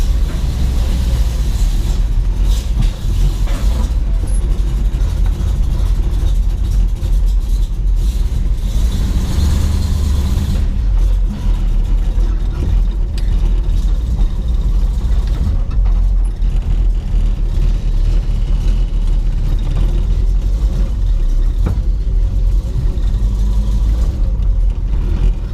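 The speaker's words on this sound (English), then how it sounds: "I'll just back the car out, do a little video outside." A 1970 Dodge Dart Custom with a 340 V8 and four-speed manual idles steadily and rumbles loudly while backing out, a constant low engine drone throughout with no speech.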